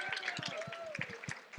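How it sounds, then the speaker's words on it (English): An audience applauds a panel of women health experts at an indoor talk, with scattered, uneven claps ringing out close by and a faint voice-like tone drifting underneath. "Let's give them a round of applause."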